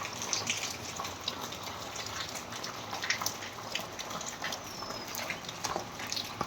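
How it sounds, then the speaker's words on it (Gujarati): Heavy overnight rain pours down outdoors in a steady, dense rushing hiss of falling water, even and continuous throughout without any voices. "અવાજ આવતો હશે. સરસ વરસાદ ચાલુ થઈ ગયો છે રાત્રેથી."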